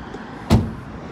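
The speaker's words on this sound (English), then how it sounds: "Shut the doors for you." A single solid thud as the rear doors of a van are slammed shut, close and sharp against quiet background, with no talk.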